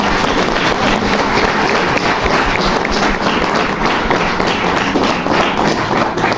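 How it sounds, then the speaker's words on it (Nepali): Wedding guests applaud together during a Nepali wedding ceremony, a dense, steady wash of clapping that stays loud and even from start to finish. "र यस बेला सबैजना ताली बजाउनु।"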